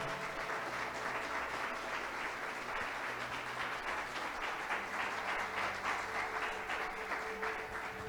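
A church congregation claps and applauds in praise, a sustained even wash of clapping that holds for several seconds at moderate distance with no talking over it.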